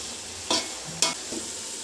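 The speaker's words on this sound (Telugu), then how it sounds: "లైట్ బ్రౌన్ కలర్ వచ్చేంతవరకు ఫ్రై చేసుకోవాలి" Food stirs and sizzles in hot oil in a pan while being fried until light brown, with a few sharp scraping strokes over a steady low crackle.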